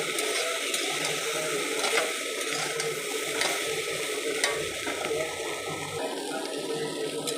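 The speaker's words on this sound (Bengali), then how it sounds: "দেখুন আমার কপি ভাজা হয়ে গেছে" Cauliflower fries in a pan with a dense, continuous sizzle and light bubbling crackle, close and steady for the whole stretch, without talking.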